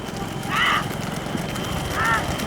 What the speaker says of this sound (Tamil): மாடு கிட்ட வந்துருச்சு. வரது வருது.